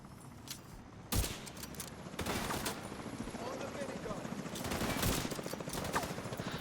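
A minigun in a shooter video game lets loose in rapid bursts of dense, rattling fire, with a short shot near the start and longer sustained volleys later, loud over a busy game background.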